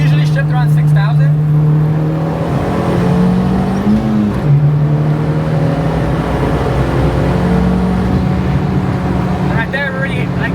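A Honda Integra GSR with a swapped L15B7 engine pulls hard in third gear, its steady engine drone rising in pitch through the run, loud and close from inside the car, with a voice speaking over it.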